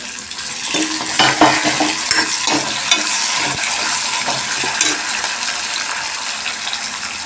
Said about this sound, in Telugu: టమాటా ముక్కలు వేసుకోవాలి మొత్తం మొత్తం అయితే కలుపుకోవాలి